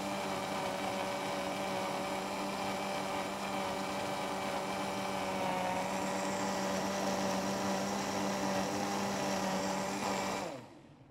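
A King Mix KM Q6A blender runs its automatic program with a steady, loud motor whine and dense grinding hum that holds its pitch for about ten seconds, then winds down sharply at the end.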